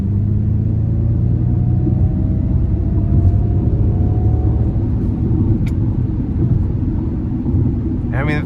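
A 2023 Ford Mustang Mach E Select Standard Range electric car accelerates hard, a loud steady road rumble with a rising electric motor whine building throughout, heard from inside the cabin.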